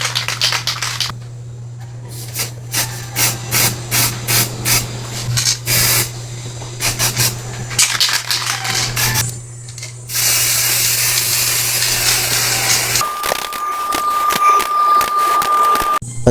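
A motorcycle muffler being spray painted up close: a run of short hissing spray bursts, then a longer continuous spray, over a steady low hum.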